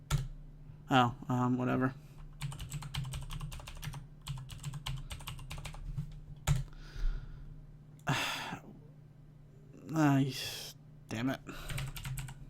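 Fast bursts of clicking on a computer keyboard as a password is entered, close and crisp, broken by pauses, with sighs, gasps and brief muttered words from the typist between the runs of keystrokes.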